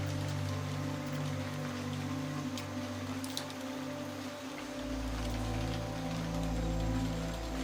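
Steady rain pours down in a continuous wash, with a low rumbling hum underneath that swells in the second half; no voices.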